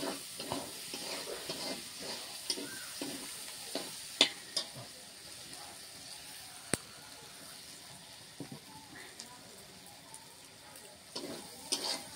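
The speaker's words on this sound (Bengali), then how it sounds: "সব কিছু মিশিয়ে ভাজাই ভালো, নাহলে মাংসের মধ্যে ওই মশলা ঢুকবে না।" Meat mixed with spices fries in a pan over a home stove, giving a faint, low sizzle with soft, irregular scraping and stirring clicks and a few sharper knocks, with no talk.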